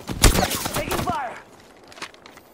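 Rapid bursts of gunfire from Apex Legends ring out loud and close, then thin into scattered shots, with voices talking over the shooting.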